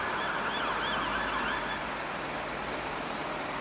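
Emergency vehicle sirens from police cars and ambulances wail in a continuous rising and falling sweep, loud and close, over a dense roar of street traffic.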